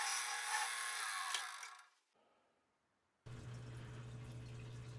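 A broadband shaving, scraping noise of a small wooden post, hububalli or mimosa, being turned down on a lathe, close and steady, then it stops, a brief quiet, and a motor hum returns.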